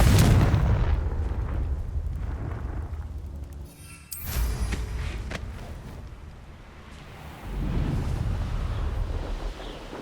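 Confringo, the explosive fire spell in the Hogwarts Legacy video game, bursting in heavy booming blasts with rumbling, windy low noise and a sharp crackling strike midway, no talking.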